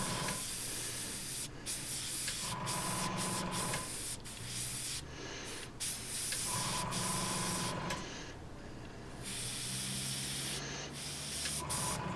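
Repeated bursts of a fine, airy spray hiss from a Harder and Steenbeck Infinity CR plus airbrush spraying paint onto a 2p coin, each lasting a second or two with short pauses between, close and steady.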